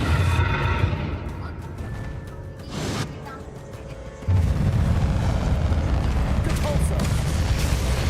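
A Bombarda spell explosion in the Hogwarts Legacy video game lands as a loud, deep boom that swells and then holds as a sustained rumble, following a quieter stretch with a brief burst partway through.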